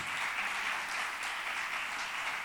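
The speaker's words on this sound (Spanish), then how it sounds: "honremos la palabra en esta mañana con un fuertísimo aplauso al Señor" Church congregation clapping at a Sunday morning service, a dense, steady wash of many hands that runs evenly throughout, fairly loud with no voices on top.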